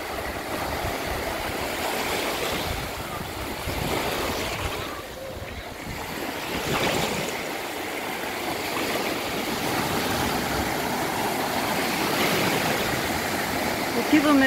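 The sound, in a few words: small waves lapping on a beach near a river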